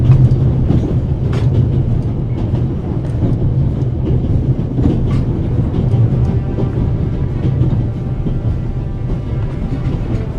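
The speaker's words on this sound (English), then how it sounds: "A runaway steam locomotive is a bomb waiting to explode." A runaway steam locomotive in the video game The Raven rumbles loudly and continuously, with a low droning roll and rhythmic clattering of wheels on rails throughout.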